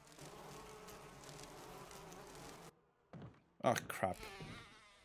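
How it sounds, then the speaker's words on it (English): Giant bees swarming around a large beehive in the Resident Evil HD video game on PC, a dense buzzing drone that cuts off abruptly, followed by a few thuds and a man's brief exclamation. "Look at them bees. They're fucking gigantic."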